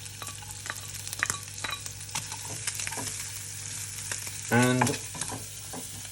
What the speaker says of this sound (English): We don't want the butter to burn, so we'll pop now the shallots in and the garlic